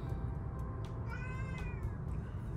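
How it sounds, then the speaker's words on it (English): A female house cat meows insistently in a room, with several drawn-out, rising-and-falling cries that stand out clearly over a steady low background hum. "my cat is being annoying"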